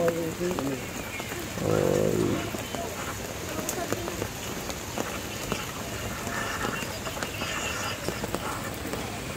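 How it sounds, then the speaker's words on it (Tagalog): Steady rain patters on a surface throughout, with a brief burst of voice and scattered louder drops over the continuous hiss. "Umuulan na."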